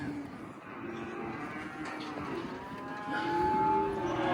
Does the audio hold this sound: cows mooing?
yes